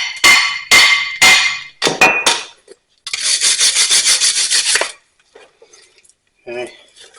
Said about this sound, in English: Sometimes I just hit it with a hammer and knock some of this rust off.